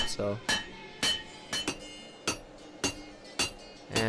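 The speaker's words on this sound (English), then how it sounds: "drawing it out, pounding it, dinging up my anvil as I go" Hammer blows pound a borax spoon on a railroad-track anvil, about eight sharp metallic strikes at a steady half-second rhythm, close and ringing, with a short low hum early on.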